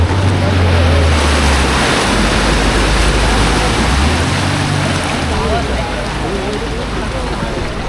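Floodwater surges in waves as vehicles drive through a flooded road in Nalasopara during torrential rain. The water makes a loud, continuous rushing wash, close and unbroken, with wind buffeting the microphone.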